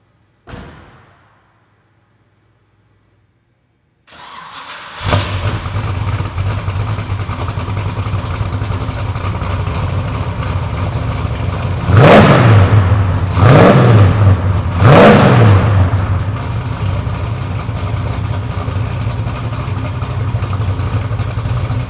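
A 1972 Chevrolet Chevelle restomod cranks and fires up after a brief quiet, settling into a loud, steady idle close by, then revs sharply three times in quick succession before dropping back to a rumbling idle.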